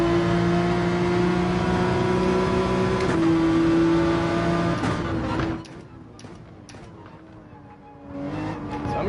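A Gran Turismo race car engine holds a steady high drone near and loud, then dips sharply as the throttle lifts before climbing again, with other car noise underneath.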